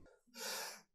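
A single sneeze blasts straight into a close microphone: a brief catch of breath, then one loud, harsh, breathy burst that fades quickly.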